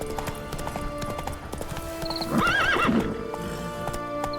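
A horse in The Witcher 3 video game gallops with rhythmic hoofbeats and lets out a clear, rising-and-falling neigh partway through, all over continuous game ambience.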